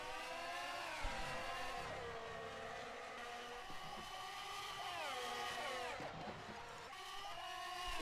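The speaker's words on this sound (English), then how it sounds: "Oh, John missed his braking point." Racing cars at Spa-Francorchamps whine past with layered, rising and falling engine pitches that shift as they brake and accelerate, a steady moderate-level engine drone with no talk over it.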